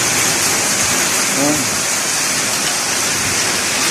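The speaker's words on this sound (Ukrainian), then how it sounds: "але дощ іде, слава Богу" Heavy summer downpour lashes a village garden in strong wind, a loud, dense, continuous hiss of rain with water gushing from a downspout; a person speaks briefly over the roar.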